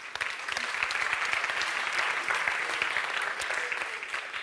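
An audience at a brand content awards ceremony applauds in a sustained, moderately distant wash of many hands, with crisp individual claps standing out and holding steady throughout.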